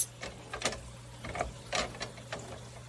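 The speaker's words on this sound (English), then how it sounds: "I wish this would grind up a little more." A hand grinder grinding spice for a ramen noodle casserole gives faint, uneven ratcheting crunches in short irregular bursts against a low steady hum, close by and quiet.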